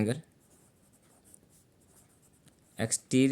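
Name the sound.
writing the exterior angle equation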